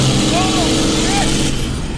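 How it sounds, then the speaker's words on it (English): A Cummins diesel-swapped Mustang engine roars steadily with its throttle stuck wide open, a loud, sustained drone with a slight rising whine, continuous throughout. "The throttle's stuck wide open."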